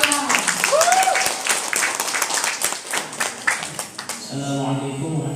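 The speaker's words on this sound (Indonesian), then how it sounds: "Beri aplaus untuk berdoa." An audience claps for a few seconds, a dense, fairly loud patter of many hands that thins out toward the end as a voice begins speaking.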